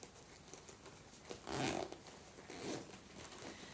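A small pouch-sized bag bought from Temu is zipped, giving two quick scratchy zipper pulls close up against a quiet background, the first slightly louder than the second.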